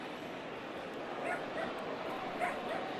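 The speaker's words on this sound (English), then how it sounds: "Dogs having a ball." Dogs yip and bark faintly in the stands at a Padres versus Tigers baseball game: a few short, thin yelps and whimpers scattered over a steady crowd murmur, distant and partly masked.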